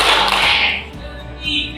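Students in a classroom clapping game clap rhythmically, with a burst of bright claps followed by a few softer taps, heard close and fairly loud.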